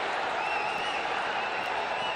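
Dense crowd roar fills a cricket stadium during an India versus Sri Lanka super over, a steady wash of cheering and applause that holds at an even level throughout, with no single voice standing out.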